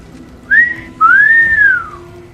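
A person whistles close and loud, a short high note and then a longer sliding tone that rises and falls, with no talking.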